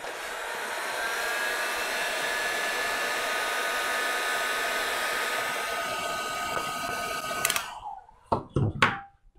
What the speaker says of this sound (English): It's quite funny to see how the heat gun affects it.